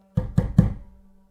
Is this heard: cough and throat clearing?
no